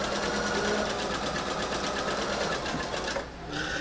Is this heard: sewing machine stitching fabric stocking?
yes